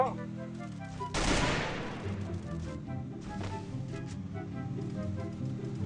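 Gunfire in the Free Fire battle royale game, a sharp loud burst of shots followed by scattered rapid firing and crackling over several seconds.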